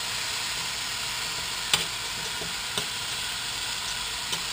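Beef shank pieces searing in a pan, a steady even sizzle with a few sharp ticks and pops, close and alone.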